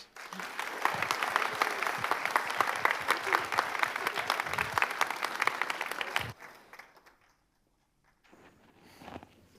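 A lecture audience applauds as a lecturer is welcomed to the stage for the Harper Lecture, steady loud clapping filling the room for about six seconds before it stops abruptly, followed by near silence and faint stirring.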